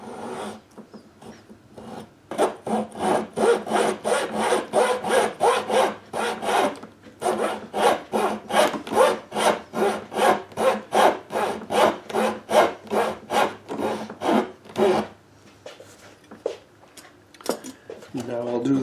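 Very thin razor saw with a 0.010-inch kerf cutting wood for an SG-style guitar neck tenon, fast rhythmic back-and-forth rasping strokes, close and crisp, starting after a brief pause and continuing steadily.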